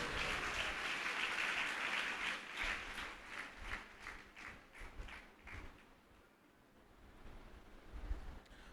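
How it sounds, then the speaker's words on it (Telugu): A church congregation claps hands in praise during a Telugu prayer service, a loud, rapid, rhythmic clapping that fades into a series of separate claps and thumps, then quieter scattered sounds. "గట్టిగా చప్పట్లు కొట్టి ప్రభువును స్తుతించండి."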